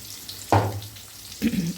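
Chopped onions frying in a pan of oil toward golden brown for an old-style tamarind pickle, giving soft sizzles with two brief louder bursts of stirring over a low steady hum.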